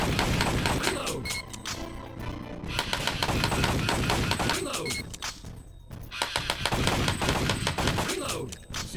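A Retro Shooter toy gun fires in rapid bursts of sharp electronic gunfire effects, with three loud stretches of crackling shots separated by short pauses.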